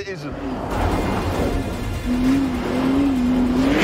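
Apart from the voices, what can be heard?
Lamborghini Urus engine revving on ice track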